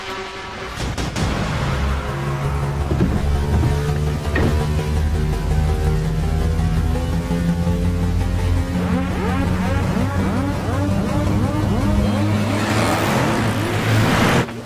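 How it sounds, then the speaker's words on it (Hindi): A car drives off in a movie scene, its engine loud and near. It revs and whines through shifting pitches for the whole stretch, with no one speaking over it. "गाड़ी हॉस्पिटल के अंदर नहीं आई, वो सीधे चली गई।"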